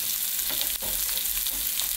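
Beef short ribs sear in a hot pan, giving a loud, continuous, close crackling sizzle with a brief dip partway through.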